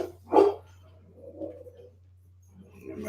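Excited pet dogs at home let out one loud sharp bark early on, followed by softer whines and yips trailing off and returning faintly near the end.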